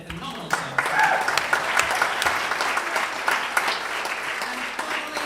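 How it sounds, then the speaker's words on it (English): An awards-night audience in a room applauds, a dense, steady wash of clapping from many hands that holds at a fairly loud level throughout. "I'd also like to give another round of applause to the UNE Life Events and Catering staff"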